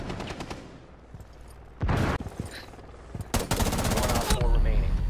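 Rapid bursts of automatic gunfire in a tactical shooter video game, tight rattling volleys separated by pauses, growing denser and louder toward the end.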